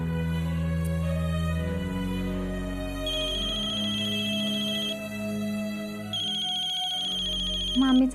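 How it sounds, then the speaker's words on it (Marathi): A telephone rings with a melodic electronic ringtone, an incoming call from an aunt, its tune looping steadily and clearly for several seconds. "मामीचा फोन."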